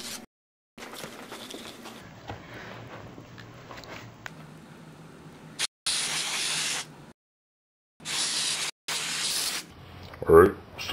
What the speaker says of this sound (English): I'm going to spray again with silicone